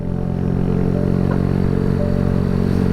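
A small Kawasaki Z125 Pro motorcycle being ridden, its engine holding a steady, loud, even drone at a constant speed for a few seconds, with no talking.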